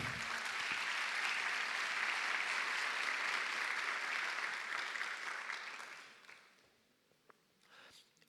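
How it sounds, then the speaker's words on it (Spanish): A church congregation claps for the Lord in a thick, steady roar of many hands that holds for several seconds, then tapers off and fades, leaving a few scattered claps at the end. "Dele un aplauso al Señor."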